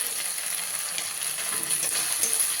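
A spice masala with chili powder fries in a pan, giving a steady, close hiss and sizzle, with faint stirring scrapes throughout.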